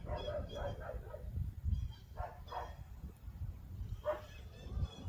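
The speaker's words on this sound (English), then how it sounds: "neighbor's dog" A neighbor's dog barks in the distance, a few separate woofs in short clusters, faint against low background rumble, with no talking.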